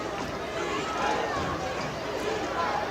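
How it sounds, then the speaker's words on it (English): Distant Bears crowd at a high school varsity football game in North Royalton, a steady broad roar of many voices carrying from across the field, chanting blended into continuous crowd noise with no close speech. "you hear the Bears crowd calling defense from all the way across the field here"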